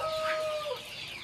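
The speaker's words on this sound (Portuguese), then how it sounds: "E aqui tem as galinhas." Hens on a poultry farm give a short burst of clucking with a thin high call, close and clear over faint barn background.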